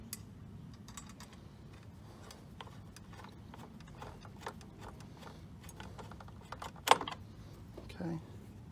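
Small metal screws are picked up and handled during a headlight installation on a Jeep Wrangler JK, a series of light clicks and ticks with a sharper clink near the end, quiet and close.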